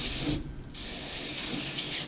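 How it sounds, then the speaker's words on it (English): Spray of liquid hosed over a snowblower to clear out packed material: loud, broadband hissing that cuts out briefly for about a third of a second, then resumes steadily. "Spray the outside, make a mess."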